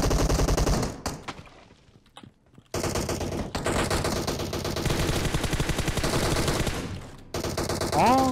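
Automatic gunfire in PUBG Mobile comes as loud, close bursts of rapid shots, a short volley, a brief lull, then a long sustained burst, with faint voices at the end.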